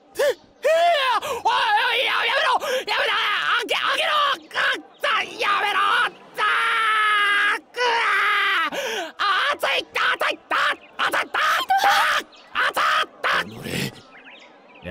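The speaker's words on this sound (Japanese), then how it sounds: "絶叫ですわね。" Screaming during an execution scene in Way of the Samurai 4, a voice crying out in long anguished bursts broken by short gaps, loud and close, with groans and gasps mixed in.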